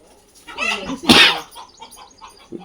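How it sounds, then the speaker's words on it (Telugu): A brooding hen clucking close by, one burst of rough calls peaking around the middle, followed by quieter scattered sounds and a short final cluck. "ఏంది కోడి ఇంకా బయటకు రాలేదా"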